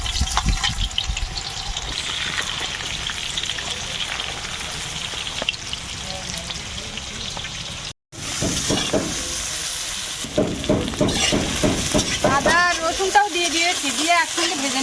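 Chopped onions fry in oil in a kadai, a steady close sizzle with stirring scrapes and a brief break, then a louder crackle as more goes in; people talk over it.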